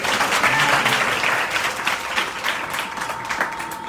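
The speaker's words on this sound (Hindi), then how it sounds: "जोरदार ताली कर सकते हैं।" An audience at a program in New Delhi applauds loudly. The dense, sustained clapping fills the whole moment at full strength, then eases slightly toward the end.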